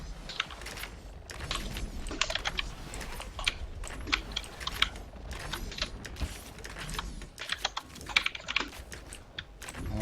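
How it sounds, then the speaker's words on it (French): Rapid, irregular clicking of keys on a computer keyboard, close and continuous for the whole stretch, with no talking. "On entend un clavier par contre là"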